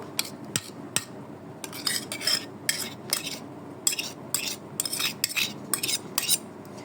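A utensil works half a cup of whisked sour yogurt marinade into chicken pieces for malai chicken, giving a run of close, sharp scraping clinks and stirring scrapes in irregular bursts against the bowl, with no voices.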